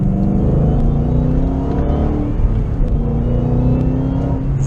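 A stock-exhaust Shelby GT500 Mustang with a supercharged V8 pulls hard in second gear, a loud, close, continuous engine roar with rising tones and a faint supercharger whir, and no talking.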